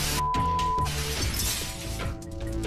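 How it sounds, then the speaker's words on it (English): Window glass shatters from a meteorite blast wave over a Urals city, a loud, dense crash of breaking panes that rings on with tinkling debris for a couple of seconds, close and full. "The blast wave smashed windows and destroyed roofs and walls of buildings."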